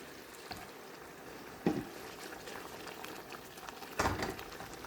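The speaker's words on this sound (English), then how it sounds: "add about another half a cup of hot water and put it on a high heat" Curry sauce with extra hot water added heats on high heat, giving a steady, faint hiss and sizzle with a couple of brief, louder bubbling bursts.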